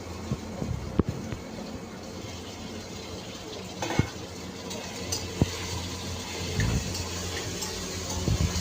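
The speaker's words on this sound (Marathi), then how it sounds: "फ्लावर, बटाटा आणि वाटाणे म्हणजे बटाट ते थोडेसे घेतलेले आहेत आणि ते पण आता याच्यामध्ये टाकायचं आणि चांगलं परतून घ्यायचं" Cauliflower, potato and peas sizzle in a pan as they are stir-fried, steady frying hiss with scattered clicks and scrapes of a spoon against the pan, no talking.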